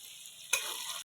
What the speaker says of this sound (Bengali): পেঁয়াজটা কেটে রেখেছিলাম দিয়ে দিলাম। এগুলো লাল করে ভেজে নেবো।